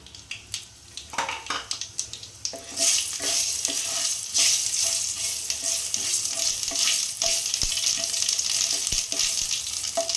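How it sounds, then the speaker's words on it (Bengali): Black mustard seeds and two dry red chillies crackle and sizzle in hot oil, with a steady frying hiss broken by sharp pops and the scrape of a spoon stirring against the pan. "এইখানে আমি 1 চামচ কালো সরষে নিলাম আর 2টো শুকনো লঙ্কা ফোড়নের জন্য।"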